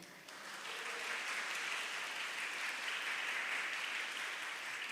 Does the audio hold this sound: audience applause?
yes